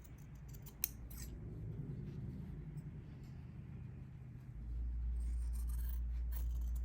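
Scissors snip and trim quilted fabric for a carrot-themed Easter tiered-tray decoration, with a few faint, close cutting clicks over a low, steady background rumble that grows louder toward the end.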